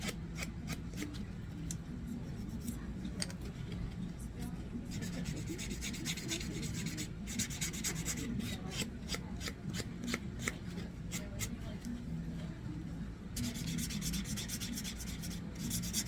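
Close, quiet rasping strokes of a nail file rub back and forth over dip-powder-coated fingernails in a steady rhythm, with brief pauses between bursts.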